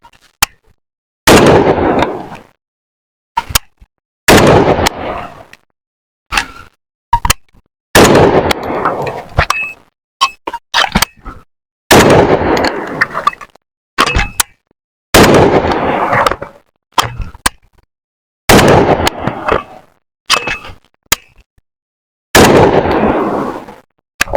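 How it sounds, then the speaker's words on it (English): An AK-47 rifle fires single rounds outdoors during a combat drill, with about nine loud, sharp shots spaced a few seconds apart. Each shot rings out with a brief echoing tail before silence. "we'll come up and just fire one round"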